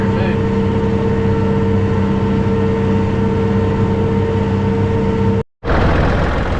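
A Kubota tractor engine drones loudly and steadily while cutting hay, with a constant low hum and tonal whine, running continuously before cutting out briefly near the end and resuming.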